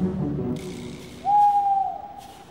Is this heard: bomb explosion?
no